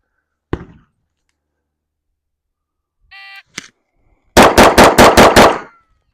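A 2011-style pistol with a red dot sight fires at a range: one sharp shot, a timer beep, then a fast string of about six loud, evenly spaced shots, close and with no talking.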